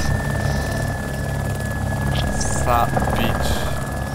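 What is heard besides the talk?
helicopter flying in the video game DayZ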